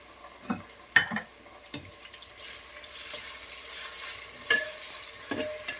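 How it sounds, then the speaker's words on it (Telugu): Onion and curry leaves frying in hot oil for a clay-pot fish stew, a steady close sizzle broken by several sharp stirring clacks and spatters, with no voices. "ఈ కాగిన ఆయిల్లో ఉల్లిపాయ కరివేపాకు వేసింది ఇది వేగుతూ ఉంటుంది"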